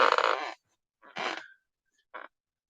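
A person yawns during a live talk stream, heard as three close, breathy vocal bursts with short silent gaps between them, strongest at the start and ending in a brief short sigh.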